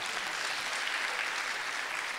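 A concert audience at a live Uzbek comedy show claps steadily, a dense, even wash of applause that goes on without pause.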